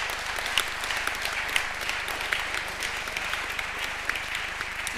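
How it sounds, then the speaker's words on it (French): An audience applauds at an award ceremony for sustainable housing trophies, with dense, steady clapping from a crowd filling the whole stretch at an even level. "Je vous invite à applaudir."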